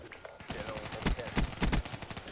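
Gunfire rattles through a Call of Duty Black Ops 3 match: dense, overlapping bursts of shots with several louder, close blasts standing out, while players talk over the action.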